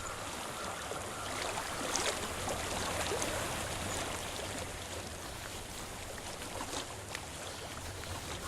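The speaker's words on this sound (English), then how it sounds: "I hear water." Water flows continuously in a natural setting in the video game Hellblade: Senua's Sacrifice, a soft, steady rushing wash with faint splashy detail. It is quiet and unbroken throughout, with no voices.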